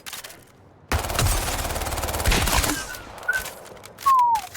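Automatic weapon fire in the shooter game Highguard: a sustained loud burst of rapid shots lasting nearly two seconds, followed by whizzing and whistling effects and a final sharper sound.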